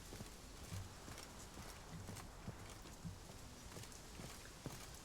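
Roach, a horse in The Witcher 3 game, clip-clops with a steady series of faint hoofbeats over a constant hissing ambient background, no talking.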